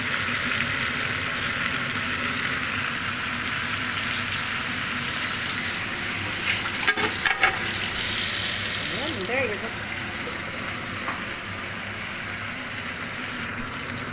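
Tomatoes sizzle in a pan of chicken curry, a steady hiss of frying with a few brief clatters of stirring and a voice speaking over it.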